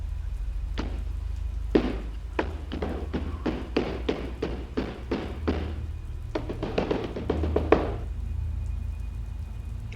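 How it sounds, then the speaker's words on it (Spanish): A series of sharp knocks on a wooden door, about a dozen in a quick irregular burst, then a denser cluster, over a low steady rumble. "provocando fuertes sonidos de golpes en la puerta de madera"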